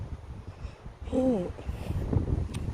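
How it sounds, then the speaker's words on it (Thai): Strong wind gusts through a tall forest in Sweden, a steady, broad rush with rumbling buffeting against the microphone and a brief voice partway through. "นี่ลมพัดแรงมาก"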